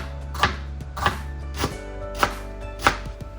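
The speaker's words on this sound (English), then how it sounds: "We'll use the bottom portion and we'll chop it up nice and thinly." A knife chops lemongrass stalk on a cutting board in five sharp, spaced thuds over a low steady background hum.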